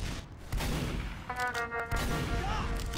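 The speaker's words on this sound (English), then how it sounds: "Doesn't even take the kit, just guns him down." Gunfire rattles in a competitive Team Fortress 2 match, a short dense volley of shots and bangs, loud and close, over a busy game soundscape.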